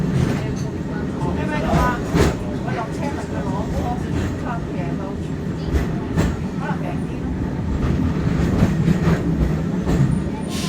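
Auckland Dockline tram running, a continuous rumble of wheels on rail with clicks and clatter from onboard, fairly loud and steady, with voices talking in the background.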